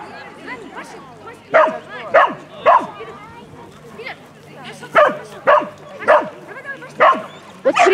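Small dogs, Russian toy terriers, bark and yip in repeated sharp bursts at a playful dog-sport event, fairly close and loud, with people talking between the barks.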